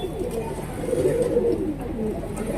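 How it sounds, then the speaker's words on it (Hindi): Pure white Jersey pigeons give a close, soft throaty coo lasting about a second, with a few fainter murmurs around it. "ये जर्सी कबूतर है, फुल वाइट।"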